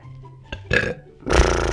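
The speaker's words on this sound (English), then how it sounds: "There's a burp coming." A person's burp after eating spicy food rumbles out in a couple of short bursts, then swells into a loud, drawn-out belch at close range, with no talk over it.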